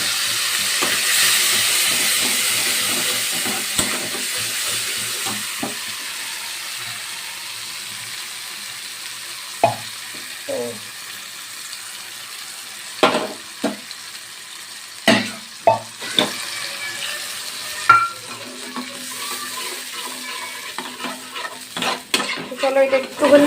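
Fish in onion and poppy seed paste frying and being stirred in a pan, a soft continuous sizzle with intermittent sharp spatula scrapes and clinks against the pan, close and fairly quiet.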